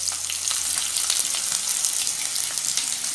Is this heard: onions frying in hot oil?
yes